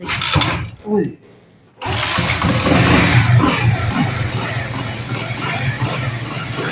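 An engine cranks and catches, then runs steadily at a close, loud idle with mechanical rattling; a voice speaks briefly at the start.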